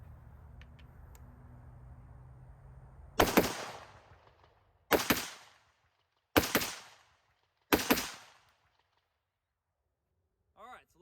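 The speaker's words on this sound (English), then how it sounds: "I'm going to go ahead and do a couple of double taps with me influencing the rifle" A Cobalt Kinetics rifle fitted with a muzzle brake fires four loud, sharp shots in close succession, each ending in a quick echoing decay, after a low rumbling background.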